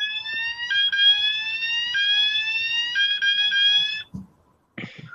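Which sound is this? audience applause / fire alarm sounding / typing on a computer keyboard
fire alarm sounding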